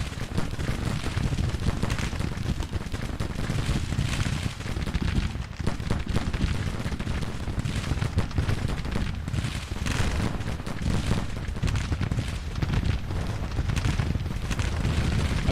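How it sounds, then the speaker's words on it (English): Dense, continuous musket volleys and booming artillery from a Civil War strategy game battle, a rolling wall of gunfire with no pauses, heavy low rumble throughout and no voices. "we're just going to fire at the rebels that refuse to stop shooting at us"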